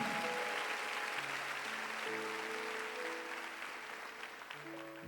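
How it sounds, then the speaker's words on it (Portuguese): Church congregation applauding during a sermon: a continuous, fairly distant wash of clapping, with sustained keyboard or organ notes playing softly underneath. "Se você crê, aplauda a Ele"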